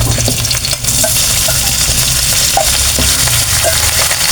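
Ricado, the sautéed garlic-and-onion aromatics for chicken lechon paksiw, sizzles steadily and loudly in a hot pan, with a dense continuous hiss and occasional soft stirring clicks, no voices.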